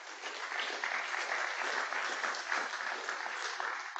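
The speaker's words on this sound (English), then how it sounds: "So let's give him a round of applause right now." Conference audience in a lecture hall gives a sustained round of applause, a steady, even wash of many hands clapping at moderate distance, with no talk over it.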